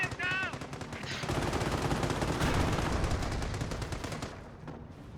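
Rapid machine gun bursts rattle continuously in a Company of Heroes battle, dense and loud, with a brief voice-like tone at the start and the firing tapering off near the end.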